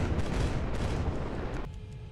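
Warship guns fire in the naval game Capital Command, a rapid clatter of overlapping booming shots that cuts off sharply, leaving a faint hum.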